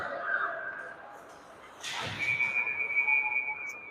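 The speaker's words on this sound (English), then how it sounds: "Oh, I think we're going to have a whistle here." A referee's whistle blows at a U12 youth ice hockey game between Minneapolis and Wayzata, a long steady shrill blast over arena crowd noise after a brief earlier chirp.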